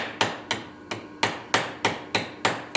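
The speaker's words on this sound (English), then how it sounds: "Use your ball peen hammer." A ball peen hammer peens a 3/16 inch truss head rivet with seven or eight crisp, close strikes in a steady rhythm, each a bright metallic knock that fades fast, with no talking.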